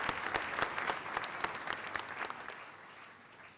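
A seated audience at a televised oratory debate final applauds an honored former president of Mali, a steady wash of many hands clapping with sharper claps near the front, tapering off slightly toward the end.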